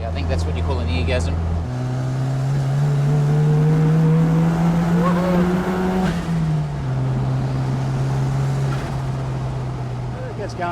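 Mazda RX3 restomod with a 13B turbo rotary engine accelerating hard, a loud buzzing drone climbing in pitch through a gear, then a shift and a steadier note with some chatter behind it.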